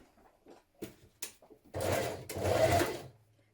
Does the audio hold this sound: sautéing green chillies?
no